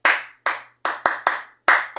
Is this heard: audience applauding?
yes